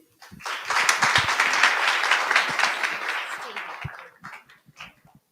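An audience at a Shiva Mahotsavam celebration gives dense, sustained applause after a presentation. It builds quickly, holds for about three seconds and thins out to a few scattered claps.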